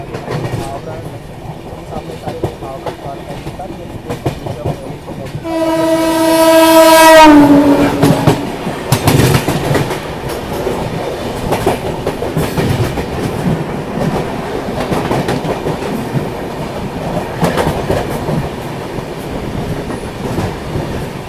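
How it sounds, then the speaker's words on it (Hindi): Netaji Express running between Howrah and Kalka sounds a long, loud horn blast as it approaches, followed by the steady rumble and clatter of carriages rushing past close by. "अभी देखो सामने से आ रही है हावड़ा से कालका जाने वाली नेताजी एक्सप्रेस।"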